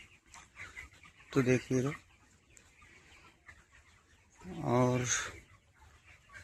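Broiler chickens in a modern poultry farm cluck loudly in two close bursts, with a soft murmur of birds and someone speaking between them.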